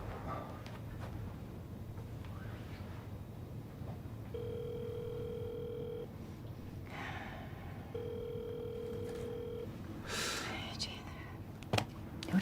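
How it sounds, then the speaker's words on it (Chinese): A telephone line gives two long evenly spaced ringback tones while a call is placed and goes unanswered, heard close and clear over faint room hiss. "我给刘正打电话"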